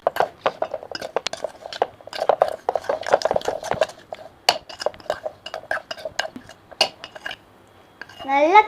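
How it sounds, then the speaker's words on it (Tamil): A spoon stirring sugar into a dish, quick irregular clinks and scrapes against the vessel, close and clear, with a brief warbling sound at the end. "நல்லா கலக்கிக்கோங்க, நல்லா மிக்ஸ் பண்ணிக்கோங்க"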